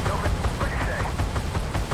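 Rapid autocannon fire from a K-21 infantry fighting vehicle in the Armored Warfare game, a steady stream of evenly spaced shots at a loud, constant level with a faint voice underneath.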